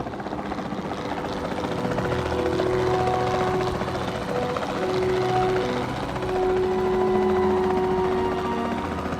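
Helicopter flying in the video game Jurassic World Evolution 2, a steady whirring rotor drone with a faint tonal engine whine that swells and fades slightly, heard alone without talk.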